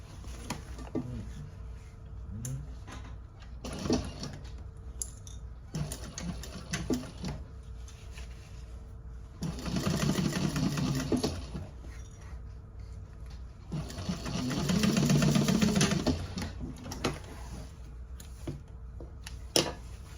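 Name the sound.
sewing machine stitching a handbag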